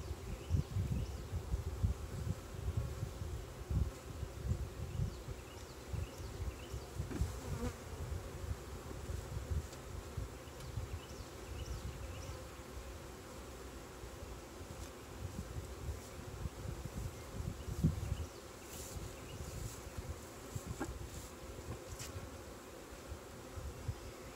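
A steady, dense drone of many honeybees buzzing close by in an open hive during inspection, continuous throughout, with occasional soft rustles and thuds underneath.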